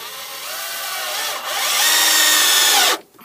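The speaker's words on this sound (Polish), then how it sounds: "A mogę dać tego wkręta." A power drill drives a screw into wooden roof battens on a hip-roof soffit framework, one steady rising whine for about three seconds with a short dip midway before it stops abruptly, loud and close.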